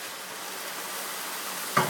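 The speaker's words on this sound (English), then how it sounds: "The whole pan now is sizzling with the white wine." White wine hisses and sizzles steadily in a hot pan while deglazing chicken stew, a broad crackling fizz, with a brief clatter near the end.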